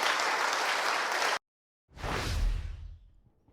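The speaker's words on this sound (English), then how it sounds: "So you notice what got the applause of that crowd, didn't it?" A crowd applauds a political speaker calling for term limits, with dense, steady clapping that cuts off abruptly, then a second loud burst after a brief silence that gradually fades.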